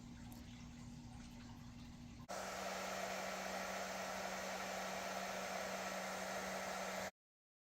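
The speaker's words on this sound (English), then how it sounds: "heat it directly with a hairdryer. So I'm going to put it on maybe medium heat here" A hair dryer blows on medium heat with a steady, close whoosh, stepping up abruptly in loudness and pitch after about two seconds and running evenly until it cuts off.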